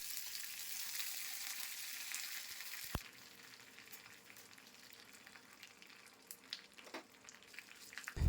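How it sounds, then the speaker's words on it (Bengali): Mustard oil poured into a hot pan over curry leaves, mustard seeds and radhuni, with a sharp clink near the start and a faint, continuous sizzle that stays low and close, picking up slightly toward the end. "পাতা আর সর্ষে রাঁধুনি দিয়ে একটু নাড়াচাড়া করে নিয়ে গরম হয়ে গেলে তারপর সর্ষের তেল দিয়ে দেব। দিয়ে দিলাম সর্ষের তেল।"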